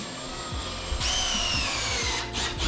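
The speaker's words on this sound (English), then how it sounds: "We then used screws to attach the wall and the bottom plate." A power drill drives screws through the bottom plate of a new wall frame being built for a nursery, the motor whirring up for about a second under rhythmic low thuds and a brief scraping rub.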